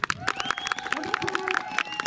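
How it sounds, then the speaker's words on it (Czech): Applause from a crowd at a Hubertus horse ride, sharp scattered claps over a couple of seconds, with a voice talking over them and whistle-like tones in the background. "Prosím potlesk."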